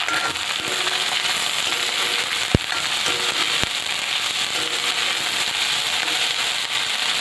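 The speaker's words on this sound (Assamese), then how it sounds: "প্ৰথমে ভিন্দিখিনি অকণমান জাষ্ট তেলটো ভাজি ল'ব" Sliced okra frying in hot oil in a pan for a mixed vegetable dish gives a steady, close, loud sizzle throughout, broken by two sharp crackling pops, with no talking.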